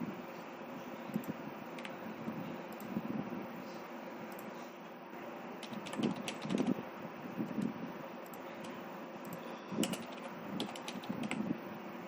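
Quiet clicks of a computer keyboard while a C program is typed, coming in short irregular bursts over a steady fan hum.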